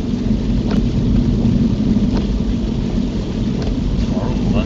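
Heavy rain and rough weather heard from inside a car during a driving lesson, a steady loud rumbling wash of wind and rain on the body with occasional faint drips and taps, no talking.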